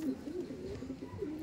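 Andhra breed pigeons coo softly and repeatedly close by, a low, rolling series of throaty calls running continuously with no talking over them.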